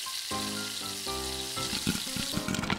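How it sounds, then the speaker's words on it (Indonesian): Popcorn kernels heat in a hot pan in a children's cartoon kitchen, giving a steady sizzle beneath sustained musical tones, with sharper crackling bursts near the end. "kita panaskan wajan. Popcorn dimasukkan,"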